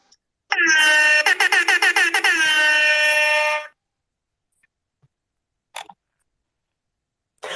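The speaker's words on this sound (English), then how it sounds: "I love the air horn followed by awkward silence." A loud, blaring air horn sounds for about three seconds with a stuttering pulse in the middle, then cuts to near silence broken by a couple of faint clicks.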